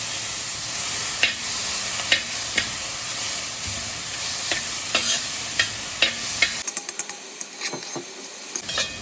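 Carrot sautéed in leftover ghee for carrot payasam, a steady soft sizzle with repeated spoon stirring and scraping knocks against the pan, close and clear, without talk.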